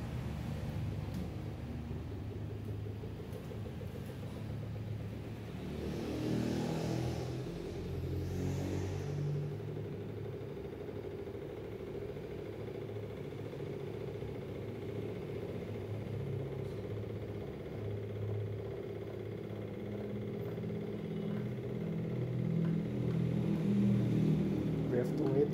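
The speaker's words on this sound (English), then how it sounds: "I'm going to start the motor." Newman motor running at 8 volts on a test bench: a steady low electric hum and whir, continuous and fairly quiet, with faint voices in the background.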